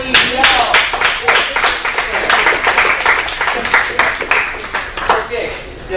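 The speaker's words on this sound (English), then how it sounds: "But round of applause for Kelly Real" An audience at a monthly business mastermind meeting claps for a leader, a lively group round of sharp, distinct hand claps in a quick uneven rhythm, with voices mixed in, thinning out toward the end.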